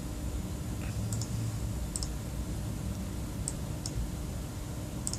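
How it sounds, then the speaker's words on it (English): A computer mouse clicking an on-screen button, several faint, crisp double clicks spaced a second or two apart over a steady low hum, with no voices. "I'm gonna click on OK"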